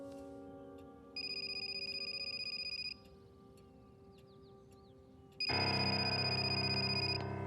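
A telephone rings in two long electronic trills, a pause between them, the second louder and fuller, over a steady low indoor hum.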